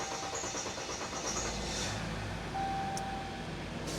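A Ram 1500 EcoDiesel engine cranking for a long time without catching: a steady, unbroken whir of the starter turning the diesel over, close and fairly loud, with no talk.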